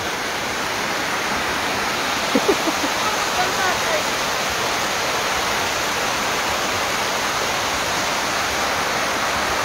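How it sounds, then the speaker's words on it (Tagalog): Heavy rain with flooding in Tacloban during a storm, a steady loud hiss of downpour and rushing water that runs the whole time, with a few faint brief sounds early on. "Ganyan pag umuulan para kami nasa bagyo."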